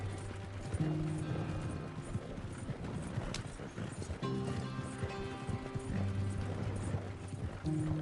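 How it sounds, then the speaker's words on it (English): Horse hooves clip-clop in a fast, steady rhythm in the Western video game Red Dead Redemption, galloping continuously and fairly loud with faint mechanical game sounds beneath. "It's like, it's literally Grand Theft Auto, but with horses."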